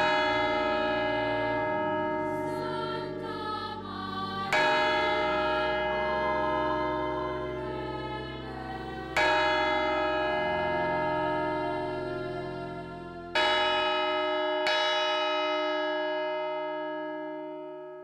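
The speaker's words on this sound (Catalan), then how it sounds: "Quan mor el dia, les campanes van dient Ave Maria." Large church bells toll loudly, each strike ringing out and overlapping with long, resonant decays, several strokes spread across a sustained peal, in Albaida.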